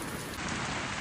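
Heavy rain pours down in Kashmir during a rainy spell, a dense, continuous hiss of drops on surfaces, loud and steady throughout.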